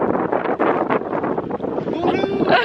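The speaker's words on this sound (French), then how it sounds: "Il y a un peu de vent." Wind buffets a handheld microphone outdoors at the Parc Astérix theme park, producing loud, gusty rumbling bursts that keep rising and falling, with a person speaking underneath.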